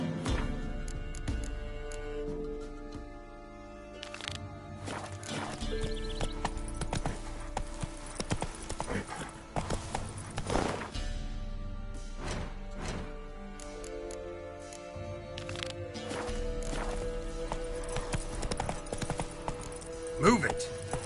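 Horse hooves clip-clopping at a run in the video game The Witcher 3, a steady rhythmic beat under game music and ambient sound, with a voice speaking over it.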